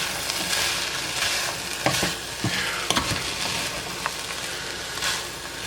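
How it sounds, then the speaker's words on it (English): SPG and Italian seasoning get stirred into a sizzling pot of zuppa, a close, steady frying hiss broken by several sharp spoon scrapes and knocks against the pot. "And stir this in."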